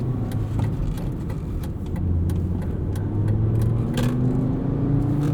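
A 2002 Volvo S60 with a 5-speed manual gearbox drives along, its engine droning steadily with road and cabin noise. The engine tone rises slightly toward the end, and brief clicks sound in the cabin.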